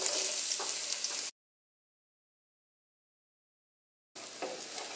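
Onion sizzling in a little oil in a frying pan, a steady soft hiss that cuts to silence for about three seconds and then resumes.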